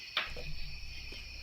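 Crickets chirp steadily through a quiet night, a faint, continuous high trill with a soft brief knock near the start.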